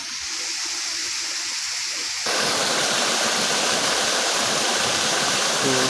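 Steady rushing water flows nearby in an irrigation channel on a farm, a continuous broadband wash, growing noticeably louder and fuller after a couple of seconds.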